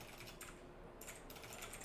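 Someone types a web address on a computer keyboard in short, quiet bursts of key clicks separated by brief pauses, faint and close.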